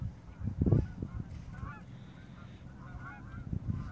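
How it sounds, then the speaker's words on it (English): Geese honk in bursts as they land on a lake in winter, a few loud calls up close and others fainter, over quiet outdoor background. "the geese are coming into the lake"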